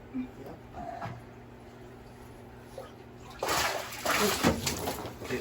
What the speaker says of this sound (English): Action splash. I'm soaked.